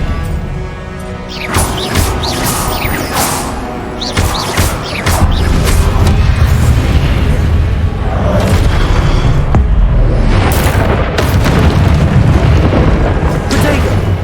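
The Expelliarmus disarming spell is cast in the Hogwarts Legacy video game, setting off loud booming blasts and crashing impacts with whooshing bursts that build into a dense, continuous roar of combat effects.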